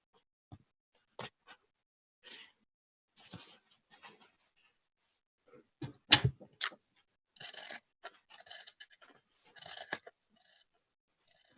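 Scissors snip fringing into paper for a craft flower, a few sparse close cuts early on, then a denser run of crisp snips and rustling handling.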